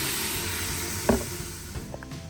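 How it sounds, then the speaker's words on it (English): Onions with dried oregano and basil sauté in a pan, giving a soft, low sizzle with a single clack of a utensil partway through. "I'm gonna saute these until they are tender"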